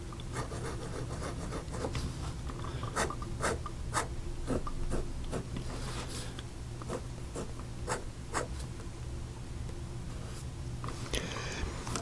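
Wing Sung 233 fountain pen writing on paper: a soft, close scratching of the nib, made of continuous light strokes with scattered small taps.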